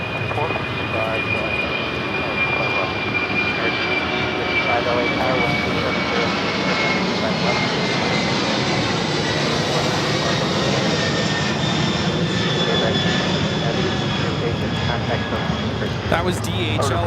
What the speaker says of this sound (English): was DHL operated by ABEX 410 taking off to Cincinnati on the 767